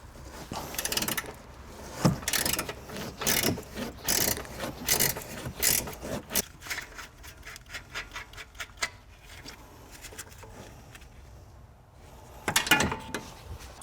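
Ratchet wrench removing a nut and bolt from Tesla Model X suspension, with quick repeated clicking strokes in close, uneven bursts and brief pauses, moderately loud with no talking.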